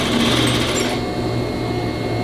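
Sewing machine stitching lace onto a vest runs steadily and loudly up close, a continuous whirring hum with a brighter high edge in the first second that then settles to a smoother drone.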